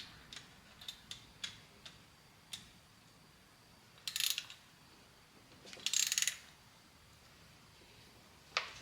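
A wrench ratchets as it tightens a fitting during a turbo install on a 2JZ-swapped Nissan 370Z Nismo. Light close clicks come first, then two louder bursts of rapid ratcheting, and the clip ends on one final click.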